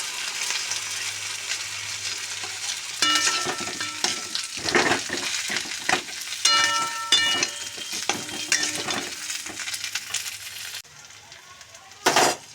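Spice paste of Kashmiri chilli powder and water fries in a pan with bursts of crackling sizzle and stirring scrapes, close by, quieting near the end, no talking.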